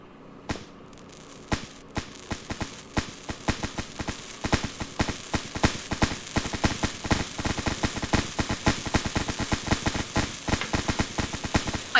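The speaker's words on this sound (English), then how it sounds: "Today I will be walking into fireworks." Fireworks going off in the Roblox game Brookhaven, a dense run of sharp cracking pops that starts sparse and quickly becomes a rapid, steady barrage of close, loud bangs with no talking.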